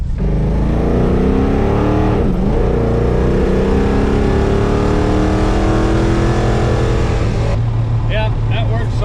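A car engine fitted with Holley Sniper EFI revs loud and close, its pitch climbing, dipping and rising again before settling, with people talking over it.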